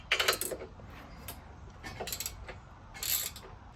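A wrench ratchets on an exhaust bracket bolt being loosened on a classic Fiat 500, heard as a few short bursts of close metallic clicking separated by quiet pauses.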